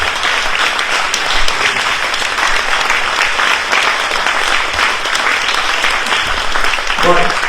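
A public meeting audience of residents breaks into loud, sustained applause, a continuous wash of clapping close and strong throughout, with a voice faintly under it near the end.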